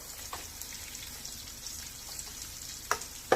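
Food fries in oil in a pan with a constant close sizzle and crackle, broken by a few sharper pops and spatters near the end; no one speaks.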